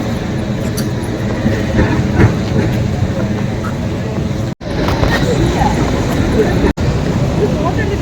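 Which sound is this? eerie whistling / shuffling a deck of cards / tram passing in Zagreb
tram passing in Zagreb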